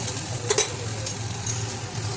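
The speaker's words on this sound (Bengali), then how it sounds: "তো এখন ভালোভাবে ওটা নেড়ে নেব।" Cut vegetables for shukto fry in a pan while being stirred, a soft steady sizzle broken by a few spatula scrapes and clacks against the metal, close and fairly quiet.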